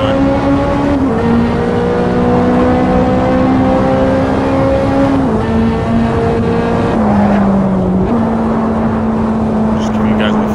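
Nissan race car engine in Assetto Corsa on PS4 holds a steady loud drone, stepping through gear changes with brief dips and rises, continuous throughout.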